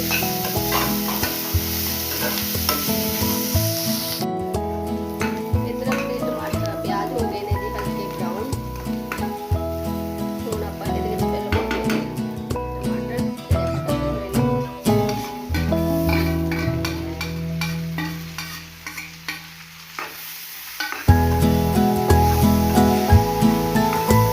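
Sliced onions fry in a pan as they cook toward light brown, a loud, close sizzle broken by repeated scraping stirs, with background music and occasional talk running underneath.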